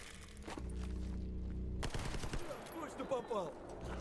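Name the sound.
gunfire in the video game S.T.A.L.K.E.R. GAMMA, AP rounds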